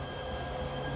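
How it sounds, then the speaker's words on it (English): A metro train rumbles past behind a house, a steady, even roar of wheels and running noise that fills the short stretch without any voices. "Train going behind."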